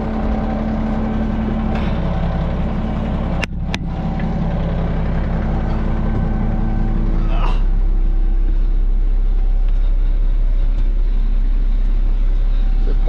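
A big dump truck engine runs loud and close, a steady low rumble for the whole stretch, with a couple of sharp knocks early on and the drone growing heavier toward the end.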